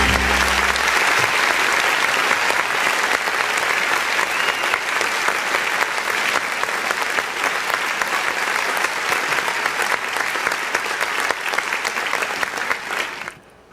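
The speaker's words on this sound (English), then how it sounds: "we have to cut those claps down at least 3 or 4 seconds short" Studio audience applause on a morning talk show, dense steady clapping held at full strength for over ten seconds before cutting off abruptly.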